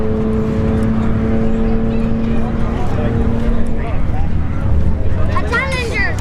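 A BMW drag racing car at a street-heat drag strip runs at speed, its steady engine drone holding a sustained tone with a fading harmonic, loud and continuous over a background of crowd and track noise.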